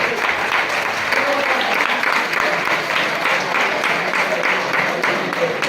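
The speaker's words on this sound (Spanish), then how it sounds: "Aplauso, por favor" Students' families and audience applaud at a school Christmas festival in Ourense, a thick, even wash of many hands clapping that holds steady and loud throughout, with faint voices murmuring underneath.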